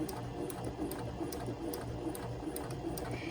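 A sewing machine stitches fabric, running in a fast, even, close mechanical patter with regular needle clicks that continue steadily throughout.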